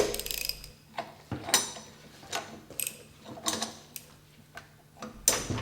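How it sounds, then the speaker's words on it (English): Allen socket on a hexagon bit adapter with a 100 mm extension turning the impeller screw loose on a Flygt submersible wastewater pump, heard as a series of close, sharp metallic ratcheting clicks and taps in irregular bursts. "Loosen and remove the impeller screw and washer. Use a hexagon bit adapter, Allen socket, with a 100 mm or 4-inch extension."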